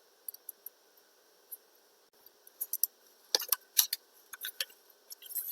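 Scissors snip through paper, cutting out petal shapes for paper roses: a run of quick, close, crisp clicks and rasps that come sparse at first, then bunch into a busier burst.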